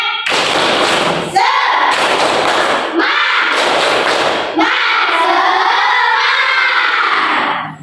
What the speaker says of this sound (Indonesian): Sebelum kita belajar berarti harus tepuk semangat.